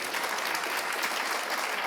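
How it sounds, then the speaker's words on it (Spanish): Warm, steady applause of thanks from an audience for the teachers at the close of a talk on Waldorf education, continuous and fairly close. "Creo que las profes serían muy contentas con un aplauso de agradecimiento de ustedes."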